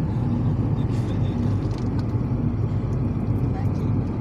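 Dacia Sandero driving on a road at a steady speed, a continuous loud low engine and road rumble with tyre noise, heard from inside the car.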